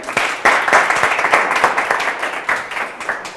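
A studio audience at a Turkish TV comedy show bursts into loud, dense applause, many hands clapping close and steady throughout before it gradually thins out.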